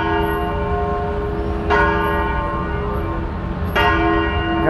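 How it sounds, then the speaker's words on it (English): Loud, resonant church or cathedral bells in India toll at a steady, slow pace, each new strike blooming over a lingering hum, with faint street ambience beneath. "you can hear the church or cathedral bells right now"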